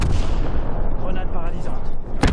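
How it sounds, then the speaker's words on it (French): A stun grenade goes off in Call of Duty Black Ops 4 zombies mode amid a dense, loud wash of game noise and gunfire, ending in a sharp burst. "Grenade paralysante."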